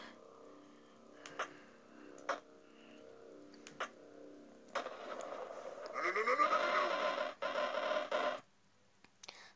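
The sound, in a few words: goat bleating in a video game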